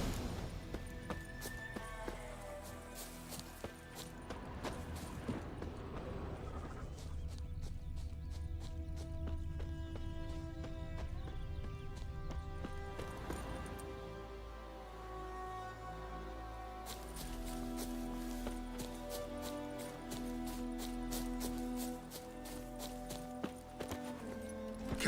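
Hooves of the horse Roach clip-clop steadily at a gallop in the Witcher 3 video game, a continuous rhythmic beat under a dense wash of game music throughout.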